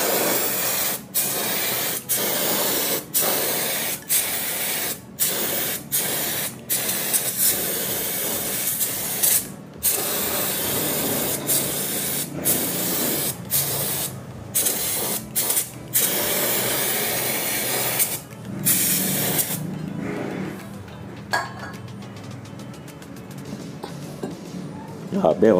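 Aerosol brake cleaner sprays in repeated bursts onto a dirty brake drum of a Toyota Rush, sharp hissing jets separated by short pauses, followed by softer rattling and handling noises near the end.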